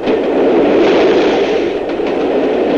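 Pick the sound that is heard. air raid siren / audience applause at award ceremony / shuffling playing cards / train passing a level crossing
train passing a level crossing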